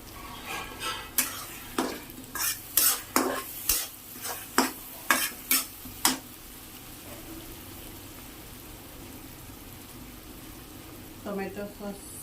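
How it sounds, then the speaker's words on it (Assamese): Masala chicken frying in a pan with soy sauce, stirred by a spoon in a home kitchen. A series of sharp scraping strokes comes at a steady rhythm over a low sizzle, then the stirring stops and the sizzle carries on by itself. "ফ্ৰাই দিছোঁ"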